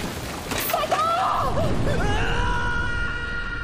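An anime character screams while plunging into a pit trap as the floor gives way, a loud strained cry that swells and trails off over a dense, roaring backdrop.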